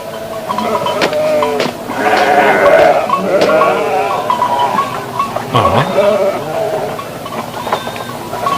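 A goat bleats repeatedly at close range, its wavering cries overlapping with people talking nearby.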